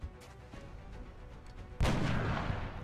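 A single heavy gunshot booms out in the XCOM: Enemy Within video game, a sudden loud blast that rings on and fades slowly after a quieter stretch of low rumbling battlefield ambience.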